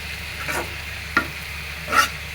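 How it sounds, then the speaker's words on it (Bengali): Potato and flat bean stir-fry sizzling in a pan with coriander leaves added, a low continuous frying hiss broken by three distinct scraping stirs of a spatula, evenly spaced. "আলু শিম ভাজি হচ্ছে"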